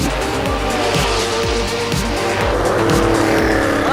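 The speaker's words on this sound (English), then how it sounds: "I'm currently sitting in the 1987 Le Mans winning car 962C of Hans-Joachim Stritzelstuck, Derek Bell and Al Holbert" A 1987 Porsche 962C Group C Le Mans race car driving hard on a racetrack, its engine loud and close with a rhythmic rise and fall, tires squealing through the run.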